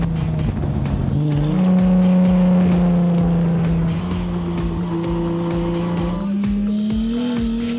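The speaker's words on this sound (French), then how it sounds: "c'est l'émeute grâce au moteur V6 3 litres 24 soupapes de 260 chevaux" Alfa Romeo GTV6 with a 3-litre 24-valve V6 making 260 hp, driven hard on the road; a steady, loud engine drone with rising revs and gear changes, alone without talk.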